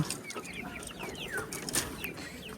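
Native Bengali chickens on an enclosed farm cluck in scattered short calls that overlap in a busy, steady flock chatter, close and moderately loud.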